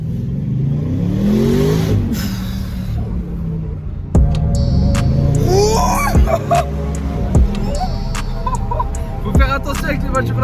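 A 600-horsepower Audi RS7 engine revs, rising in several throaty sweeps, then drops and pulls away again loudly, with a steady rumble underneath and voices talking over it.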